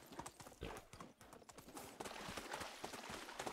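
Donkey hooves in the video game Medieval Dynasty clop quickly and unevenly on hard ground in a rapid trotting rhythm, faint and continuous.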